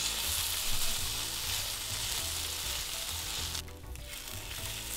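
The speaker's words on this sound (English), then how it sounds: "I'm literally just gonna sear it like 5-10 seconds each side." A5 Japanese Wagyu steak, already reverse-seared, sears in a very hot pan with a loud, steady sizzle and crackle that runs the whole time, dipping briefly near the end.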